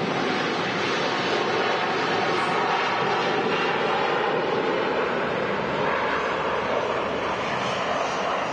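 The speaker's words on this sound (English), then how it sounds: "Heading out to Beijing, that A330, 4 years old from Hainan Airlines." A four-year-old Hainan Airlines Airbus A330-300 departs Manchester Airport for Beijing as a continuous loud, rushing jet roar with no talk.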